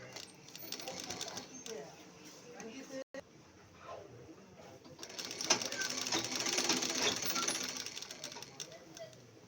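Sewing machine stitching the seam of chudidar pants, a steady whirring run that pauses briefly and then resumes louder for the rest of the clip.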